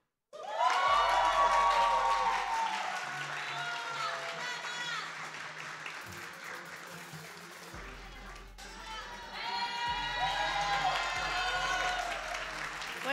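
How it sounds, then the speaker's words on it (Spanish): Audience applause and cheering at an esports award night as the player of the year, Gama, is honored: sustained loud clapping with shouts and whistles, briefly easing and then swelling again, with an announcer's amplified voice over it. "Fuerte aplauso para Gama"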